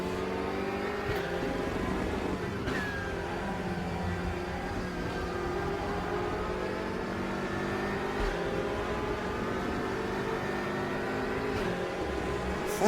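GT3 and GT4 race car engines howl continuously in a RaceRoom online ranked race at the Red Bull Ring, with rising and falling revs and other cars nearby, and no talk.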